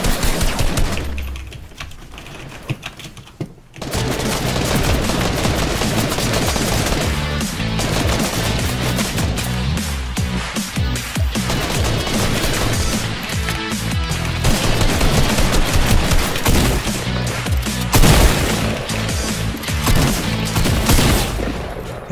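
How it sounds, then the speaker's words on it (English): Dense, sustained Fortnite Battle Royale gunfire rattles almost continuously after a brief quiet opening, loud and close, with rapid bursts layered over game sounds and no talk. "There's a dude shooting."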